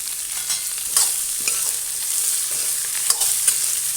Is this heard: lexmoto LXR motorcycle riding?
no